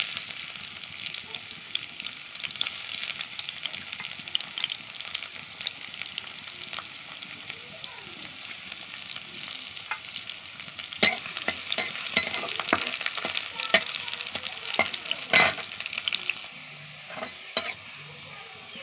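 Chopped onions frying in hot oil for a potato and soybean curry, a dense, steady crackling sizzle heard up close, with sharper spatters and stirring clatter in the second half.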